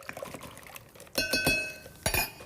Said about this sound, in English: Just kind of stir it up a little bit